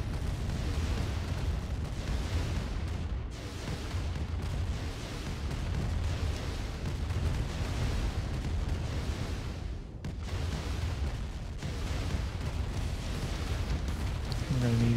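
Loud, sustained explosive rumble from an ion cannon strike in Command & Conquer Remastered, a dense boom with blasting bursts across the whole stretch, briefly dipping near the end.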